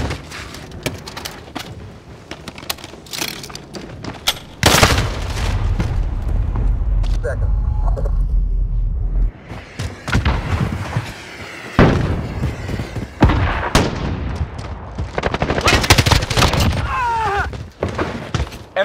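Call of Duty Modern Warfare cluster strike explosions and gunfire arrive as heavy booming thuds, one long rumbling blast, then clusters of sharp shots and impacts, while game voices speak between them.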